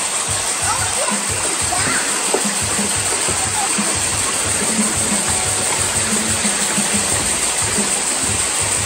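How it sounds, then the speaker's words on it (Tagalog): Broadband rushing water of a falls along a walking trail, a constant loud roar filling the whole stretch, with voices talking faintly underneath. "Oh, yan yung mismong falls. Ayun, yung falls."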